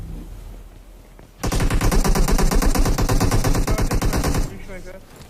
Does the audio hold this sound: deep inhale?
no